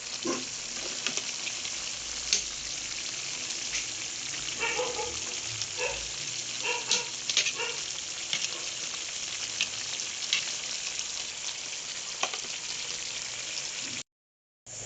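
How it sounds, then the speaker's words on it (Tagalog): A dish with gourami fish and moringa pods boils in a hot pan, sizzling and bubbling steadily with scattered pops and crackles, close by and continuous, then briefly cutting out near the end. "kumukulo na"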